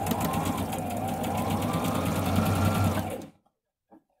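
Sewing machine stitching a seam through patchwork fabric pieces for a tulip quilt block, a steady close whirring run for about three seconds that stops abruptly, followed by a faint brief click.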